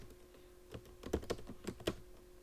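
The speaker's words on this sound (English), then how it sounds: "then you type into the text box" Someone types on a computer keyboard, with a handful of quiet, close key clicks in a loose, uneven rhythm.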